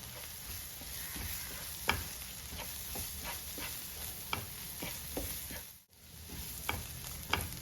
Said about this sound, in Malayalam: ഇനി ഇതെല്ലാം കൂടെ നമുക്കൊന്ന് പച്ച ചുവ മാറുന്നവരെ ഒന്ന് വഴറ്റിയെടുക്കണം